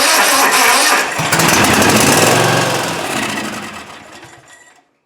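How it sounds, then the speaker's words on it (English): A Cub Cadet zero turn mower with a frozen carburetor linkage sputters loudly on starting fluid, a rough, uneven engine roar close by that surges briefly before dying away to silence. "It's running a little bit, only on the starting fluid."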